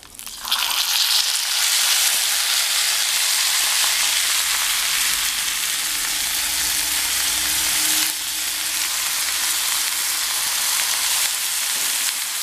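Pieces of unnithandu stem drop into hot oil with dried red chilies and curry leaves, bursting into a loud, close, sustained sizzle and frying hiss that continues steadily, with slight stirring.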